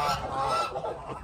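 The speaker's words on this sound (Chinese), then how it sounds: "先把鹅放出去。" Geese honk loudly and near at hand as a flock is let out of their pen on a duck-raising farm, a dense overlapping gabble of calls with one sharp low knock near the end.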